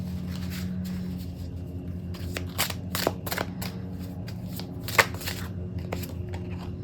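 A Fairies Oracle card deck, first edition, being shuffled: repeated papery riffles and slaps in an irregular rhythm, close and fairly quiet, with a sharper card snap partway through and no talking.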